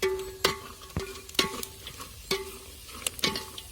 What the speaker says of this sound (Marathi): आपले सगळा मसाला याच्यामध्ये टाकून द्यायचा आहे आणि एकदम चांगला परतून घ्यायचा आहे